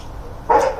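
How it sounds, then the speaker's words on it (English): A single short bark from a dog outdoors, brief and somewhat distant, rising out of a quiet workshop background. "Hear my dog out there going off on nothing."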